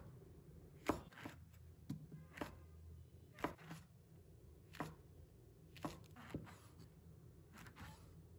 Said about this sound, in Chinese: 把海鲜菇切成小段